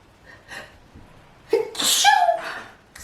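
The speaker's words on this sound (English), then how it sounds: "I'm gonna sneeze." A single close, loud sneeze, preceded by a couple of short breathy intakes and followed by a brief exhale, with no speech alongside.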